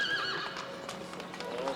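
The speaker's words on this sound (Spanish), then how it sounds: "Ese es un buen caballo." A horse whinnies near and loud, with hoof clatter and movement blended into a busy outdoor scene.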